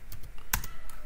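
Keys clatter on an English-layout computer keyboard, a short burst of several close keystrokes with one sharper, louder press in the middle, no talking.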